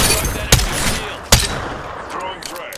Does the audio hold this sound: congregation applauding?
no